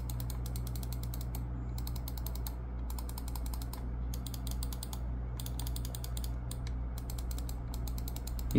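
A VXE R1 Pro Max mouse scroll wheel turned in rapid ratcheting bursts of fine ticks, broken by short pauses, close up over a constant low hum.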